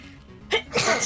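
A single sharp sneeze, close and fairly loud, with a short intake of breath before it.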